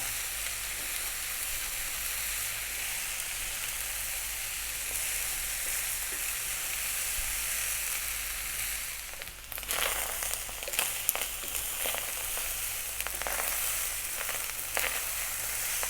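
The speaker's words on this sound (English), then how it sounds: "The sound of the rice frying." Shrimp fried rice sizzles and crackles steadily in a hot pan, with scraping and stirring noises joining partway through.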